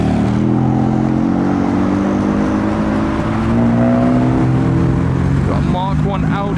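Modified cars pull away from a car meet, engines revving and accelerating continuously, with a low droning exhaust note that rises in pitch as they go, loud and close throughout.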